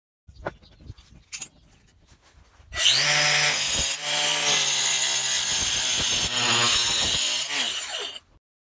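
An angle grinder cutting terracotta floor tiles for a window sill: a few taps and knocks, then a loud sustained whining grind close up that dips briefly and resumes before stopping.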